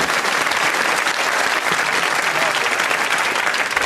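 A large studio audience at a TV panel show claps steadily and loudly throughout, dense applause with no pauses.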